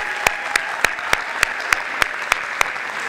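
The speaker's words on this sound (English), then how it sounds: "another big round of applause for our seniors." A high school honor roll awards audience applauds seniors, with steady crowd clapping and a distinct, evenly spaced single clap repeating loudly close by, about three per second.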